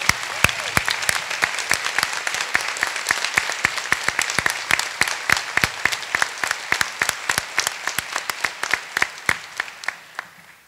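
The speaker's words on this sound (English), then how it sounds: "give them a round of applause also and show our appreciation" A commencement audience at a graduate programs ceremony applauds the standing staff, with many sharp hand claps ringing out steadily for about ten seconds and thinning slightly toward the end.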